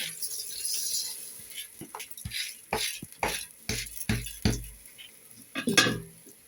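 Dry rice poured into a pot for Bengali pulao, heard as a series of clinks, rattles and stirring scrapes of metal utensils against cookware, close and fairly clear with no talking over it.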